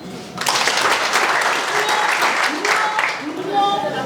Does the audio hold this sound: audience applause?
yes